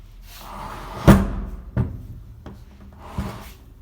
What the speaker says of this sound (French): Je vais ouvrir la porte.